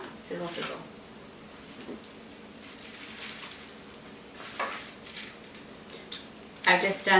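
Nut-crusted chicken sizzles and crackles softly in a frying pan, a continuous low fizz with occasional louder pops and a clatter near the end; a voice talks lightly in places.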